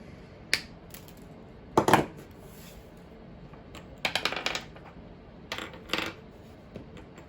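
Wire cutters snip off part of a plastic MC4 solar connector for a DIY extension cord. A handful of sharp, close clicks and crunches come at irregular intervals over a quiet background.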